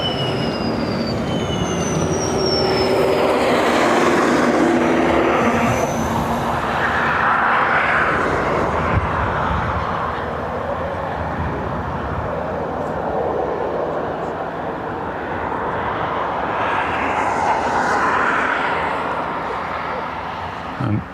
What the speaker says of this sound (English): this plane coming in